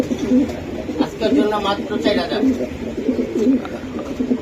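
Racing pigeons coo in repeated soft, throaty bursts, with people talking close by over them.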